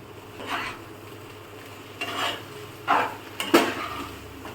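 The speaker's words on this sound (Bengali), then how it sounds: "একটুখানি গরম মশলা দেবো দিয়ে নাড়িয়ে চাড়িয়ে ঢেকে দেবো" Utensil scraping and stirring food with garam masala in a cooking pot, a few separate close rasping strokes against the pot over a quiet background, no talk.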